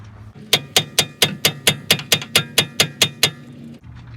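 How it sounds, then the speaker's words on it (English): About a dozen metal hammer taps strike a ball joint bolt on a Nissan Rogue lower control arm in a quick, steady rhythm. Each hit rings sharp and close, then stops, with no talking. "I'm going to give my bolt a couple taps"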